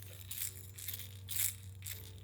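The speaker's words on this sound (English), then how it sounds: "Most of what you're hearing right now is the hooks." Hooks rattling on a Duo Realis jerkbait fishing lure give three bursts of bright, close metallic clicking and rattling over a steady low hum, with no talk.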